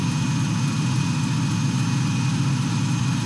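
Steady, loud engine drone from a King Air C90 turboprop in X-Plane 11, running continuously with a low rumble and a faint high whine throughout, no talk over it.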